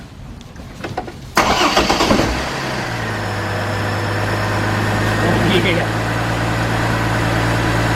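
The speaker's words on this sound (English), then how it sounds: "Let's start this thing up." After a valve cover gasket replacement and a misfire repair, a Trailblazer-family SUV engine cranks and catches loudly, then settles into a steady, even idle outdoors at dusk. Someone speaks briefly.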